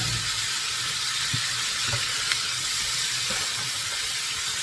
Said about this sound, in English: now it's time to add the meat. And we're going to put a nice brown on the meat as well